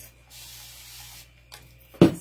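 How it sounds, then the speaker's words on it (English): A spray can sprays paint onto a planter box in a steady hiss lasting about a second, a second brief spurt follows, then a sharp close knock sounds at the end. "I'm gonna spray this."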